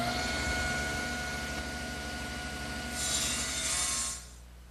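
A table saw ripping a wooden seat piece held on edge against the rip fence: a steady whining drone with a brighter rasping cut near the end before the sound drops away.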